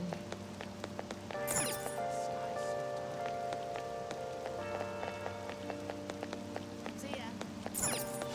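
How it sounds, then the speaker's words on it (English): Rain falls steadily in the Persona 5 video game, a constant wash of patter underneath layered game music and brief sharp effects. "I don't like all this rain."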